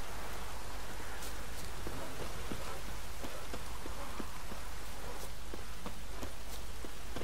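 Steady rain pours in The Witcher 3: Wild Hunt as a constant loud hiss of drops on surfaces, with soft scattered taps and a few hoof-like knocks under it throughout.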